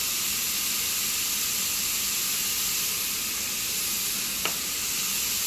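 Meat seasoned with garlic powder and salt cooking in a pan for Southern chili, a constant even sizzle throughout with one brief scrape or clink near the end, no talking.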